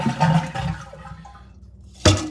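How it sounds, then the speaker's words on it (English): A toilet flushes with the handle held down to drain the tank: a gurgling rush of water fading to a quiet trickle, then a sharp clunk near the end. "We wanna flush it and hold the handle down and drain the water out of the tank"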